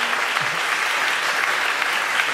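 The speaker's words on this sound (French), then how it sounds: "On l'applaudit." A television show audience applauds, a steady dense wash of clapping that holds at an even level throughout.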